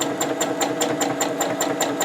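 A home sewing machine stitching steadily during free motion quilting of a hearts meander pattern, its needle thumping in a quick, even rhythm of about five strokes per second over a constant motor hum, close and clear.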